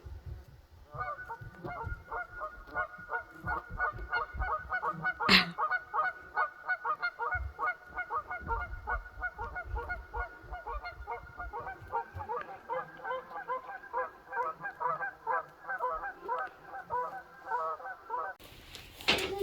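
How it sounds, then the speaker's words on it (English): A flock of geese honks continuously on a wilderness lake during a canoe trip, a dense overlapping chorus of nasal calls that keeps going steadily throughout, with one sharp knock partway through. "Noisy geese."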